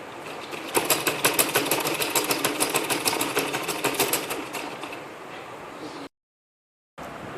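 A sewing machine runs a stitch line across gown fabric, its needle tapping in a fast steady rhythm close by for about five seconds before stopping, with no talk.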